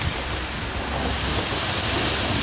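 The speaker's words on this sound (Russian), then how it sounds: "И гром." Steady heavy rain pours down during a summer thunderstorm, a loud continuous hiss filling the whole clip without a distinct thunder clap standing out.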